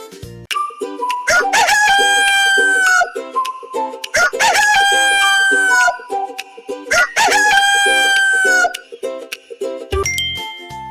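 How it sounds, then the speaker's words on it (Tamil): Three loud rooster crows, each a long drawn-out cock-a-doodle-doo, repeat at steady intervals over a looping background tune, with a short chime near the end. "சேவல் எப்படி கூவும்? கொக்கரக்கோ கொக்கரக்கோ என கூவும்."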